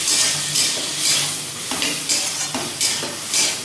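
Vegetables frying in a hot pan with cumin are stirred, giving a steady sizzle broken by rhythmic scraping strokes about every half second, close and clear with no talking.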